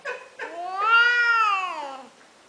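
A cat meows close up: two short chirping calls followed by one long, drawn-out rising and falling meow, with no other sound around it.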